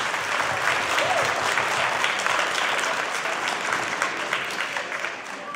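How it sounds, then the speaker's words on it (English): Families at an elementary school event are applauded by the audience. A full, steady burst of clapping holds evenly, then eases off slightly toward the end. "Let's give your families a big round of applause."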